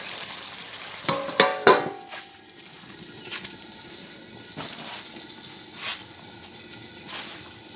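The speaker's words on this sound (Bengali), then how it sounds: "উনুনে মাংস রাঁধছি" Meat being braised and stir-fried in a pot over a clay stove gives a steady close sizzle, with a few sharp metallic clinks from stirring early on and soft scrapes later; no one speaks.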